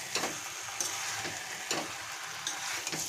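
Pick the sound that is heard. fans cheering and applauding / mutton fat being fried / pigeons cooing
mutton fat being fried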